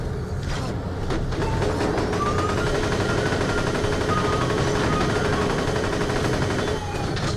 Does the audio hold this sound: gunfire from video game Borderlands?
yes